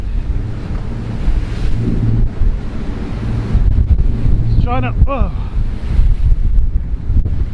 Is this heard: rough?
yes